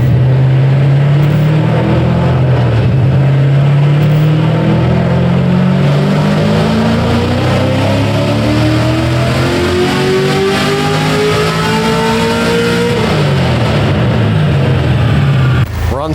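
A 700hp LS V8 in a BMW M3 revs hard on a dyno: a loud, close, sustained engine roar climbing steadily in pitch for over ten seconds, then dropping off as the throttle lifts.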